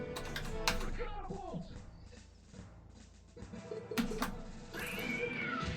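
A cat meows a few times in a pinball game, mixed with a busy layer of electronic game sounds and clicks, with a person talking over parts of it.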